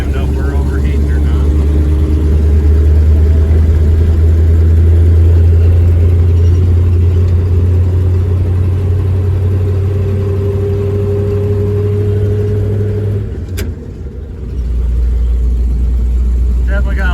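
A V8 304 AMC Hornet wagon pulling in third gear: a loud, steady, low engine drone from inside the car that holds for several seconds, dips briefly as if the throttle eases, then returns, while someone talks over it.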